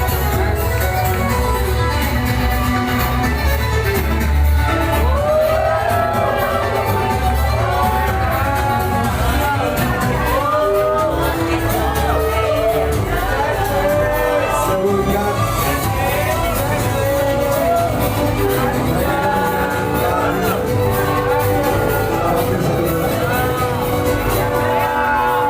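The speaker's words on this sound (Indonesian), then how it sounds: "Tepuk tangan yang paling meriah untuk kelima finalis Miss Grand Indonesia" Loud crowd at a Miss Grand Indonesia 2020 pageant cheering, shouting and whooping for the five finalists, a dense continuous roar with overlapping voices throughout.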